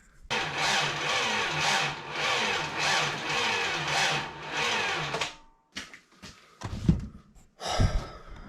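An '85 Toyota 4Runner engine cranks in a long, loud, rhythmic pulsing run of about five seconds without catching, followed by a few scattered knocks and thuds.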